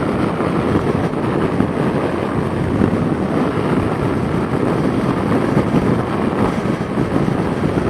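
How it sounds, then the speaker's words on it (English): Strong wind buffeting a motorbike and its rider on the road: a loud, constant roaring rush of wind noise with no breaks and no talking. "Gee, she's windy, blowing the bike to the right."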